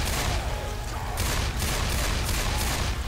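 Rapid, dense bursts of automatic gunfire from the game Left 4 Dead 2, loud and sustained across the whole stretch, with rattling volleys overlapping and no speech.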